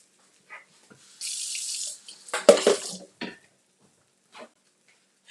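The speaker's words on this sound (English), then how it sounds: "Wash my hands." Hands are washed under a running kitchen sink tap, a hissing stream of water for about two seconds with splashing and sloshing, followed by a few quiet drips and small knocks.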